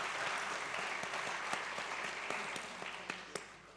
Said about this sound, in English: Can you give very warm applause to these three